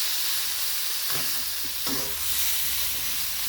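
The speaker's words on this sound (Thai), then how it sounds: "ก็ผัดคลุกไปเรื่อยๆนะครับ" Beef stir-fried in a pan for a spicy Thai dish hisses with a loud, continuous sizzle, broken by a couple of quick scraping stirs. No voices.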